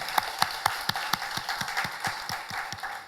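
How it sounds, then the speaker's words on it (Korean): A church congregation claps together in a steady, even rhythm at an Easter service in Auckland, with sharp regular beats at a moderate level. "우리 부활하신 주님께 영광의 박수 올려드리겠습니다"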